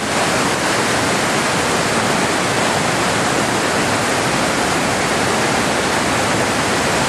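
River rapids on a canoe slalom course running at about 20 cubic metres per second, a loud, continuous broadband roar of rushing water filling the whole clip with no pauses.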